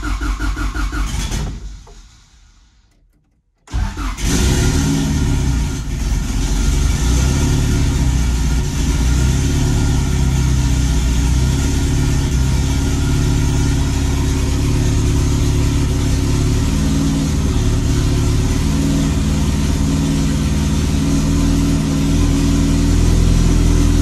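A Honda car with an OBD1 ECU cranks and fires up after a brief quiet pause, then settles into a loud, steady running engine with some revving, close to the listener and without talk over it.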